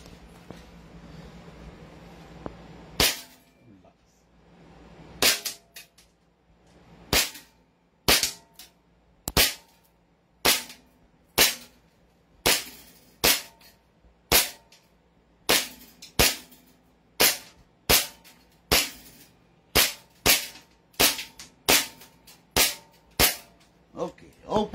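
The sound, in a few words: gun firing shots at a target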